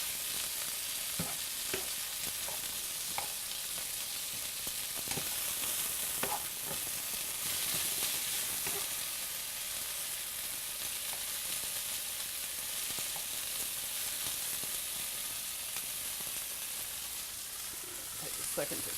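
Chicken lo mein with ginger and mushrooms frying in a pan, a steady hissing sizzle with scattered scrapes and clicks of stirring throughout.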